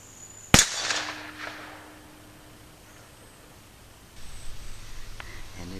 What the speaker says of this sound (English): I'm gonna just shoot that 44 on here and see what it does